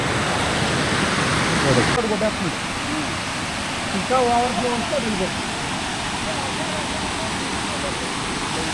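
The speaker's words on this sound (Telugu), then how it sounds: "కిందకి వెళ్ళి నీరు కిందకి వెళ్తున్నాయి" Broad steady rush of water spilling down from a reservoir near the Pinjarakonda waterfall in forest, continuous and fairly close, with a faint tonal chirp partway through.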